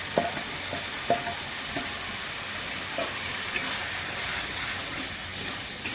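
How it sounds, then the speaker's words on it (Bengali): Ridge gourd frying together with boiled mung dal in a pan, a steady soft sizzle with faint scattered stirring clicks, close and alone without talk. "এবার এটা ঢাকা দিয়ে একটু ভেজে নেব।"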